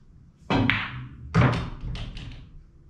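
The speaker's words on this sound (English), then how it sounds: "I hit a little bit to the left side. You saw the cue ball spin a little." A pool cue strikes the cue ball with a slightly left-side hit, giving two close thunking knocks about a second apart, each followed by a short rolling rattle in a quiet room.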